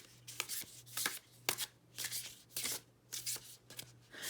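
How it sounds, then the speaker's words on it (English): A tarot deck is shuffled in quick, crisp riffling bursts, repeated about eight times in a steady rhythm, close and fairly quiet with a faint low hum beneath. "the sound of the shuffling."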